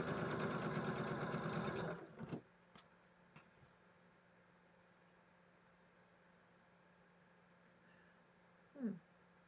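A sewing machine stitches quilt block sections in a loud, fast buzzing run for about two seconds, then stops, leaving a few faint clicks and a quiet room.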